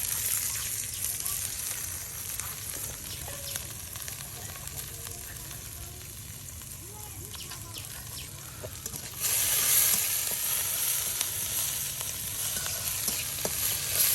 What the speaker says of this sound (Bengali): আর তেলের সাথে সবকিছু একদম ভেজে নেওয়া হচ্ছে